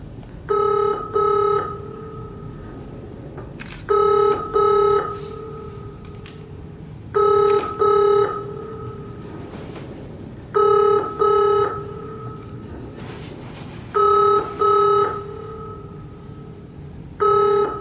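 A telephone bell rings in repeated double bursts, five ring cycles evenly spaced with short pauses between, loud and close over a steady low background hum.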